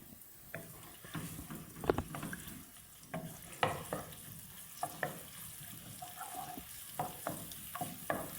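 Garlic frying in half a cup of oil in a pan on a lit stove, a soft steady sizzle broken by repeated clinks and scrapes of a spoon stirring, close and moderately quiet with no talking.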